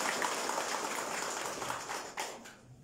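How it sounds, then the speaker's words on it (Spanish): Sustained applause from an audience at a political swearing-in ceremony for a youth coordination team, a dense steady wash of clapping that fades toward the end. "Fuerte los aplausos para nuestra familia."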